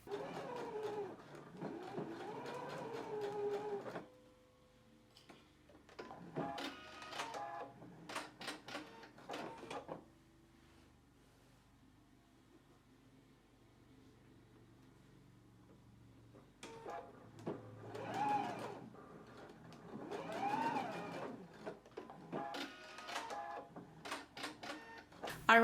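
A sewing machine basts along fabric pleats for a McCall's 7810 garment, stitching in three rhythmic bursts of several seconds each, separated by quieter pauses, fairly close and alone.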